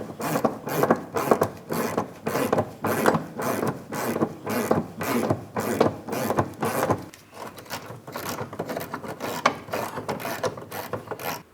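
A torque wrench ratchets steadily on suspension hardware of a Pontiac Grand Prix's rear lateral links, with rapid, even clicking bursts close by, a short pause partway, then more rhythmic ratcheting.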